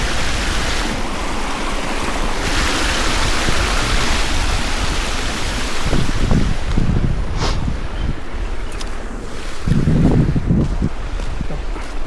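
Loud, constant rush of flowing water with wind buffeting the microphone, and a few low thumps near the end.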